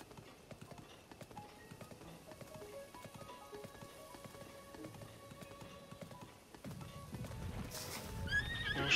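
A horse neighs and its hooves clip-clop in The Legend of Zelda: Breath of the Wild, faint game sounds with rain pattering and a louder rush of noise near the end.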